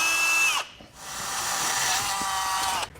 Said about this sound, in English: drill a hole through our frame